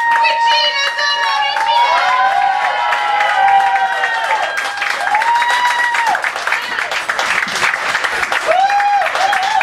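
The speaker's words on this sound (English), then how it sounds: "give a big round of applause." An audience at a live show gives a big round of applause, sustained and fairly loud throughout, with voices and calls ringing over the dense clapping.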